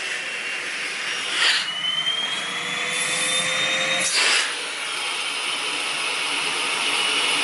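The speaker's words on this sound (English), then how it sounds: "We're going to measure Henry's working water lift or working vacuum on high and see" Henry canister vacuum cleaner running steadily on high suction during a water-lift test, a continuous broadband whine with a rising tonal whistle and two brief surges in airflow, loud and close with no talk.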